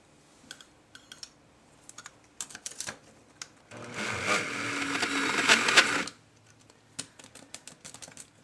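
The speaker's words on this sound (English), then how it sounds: "my poor, cheap spice grinder seems to be conking out" A cheap spice grinder grinding cocoa into chocolate, heard as a harsh, loud motor whir lasting about two seconds, surrounded by scattered clicks and taps, with no voices.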